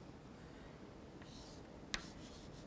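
Pen or chalk writing equations during a physics lecture, a quiet scratching stroke with one sharp tap near the end, faint against a low room hum.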